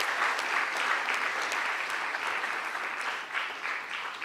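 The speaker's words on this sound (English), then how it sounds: "can you give yourselves a round of applause?" Conference audience at an agricultural finance learning event applauding, a steady dense wash of clapping sustained evenly for about four seconds with no speech.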